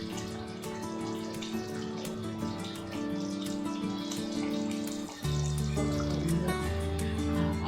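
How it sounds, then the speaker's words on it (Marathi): Water is poured into a paneer gravy holding fried paneer, a continuous close splashing and trickling pour that deepens and grows fuller partway through. "आपण थोडंसं पाणी घालून घेऊया"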